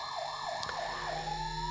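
Ambulance siren wailing as the vehicle arrives, a loud rising and falling tone that repeats in regular sweeps before settling into a steady high pitch, with no speech over it.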